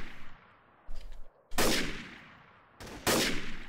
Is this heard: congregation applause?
no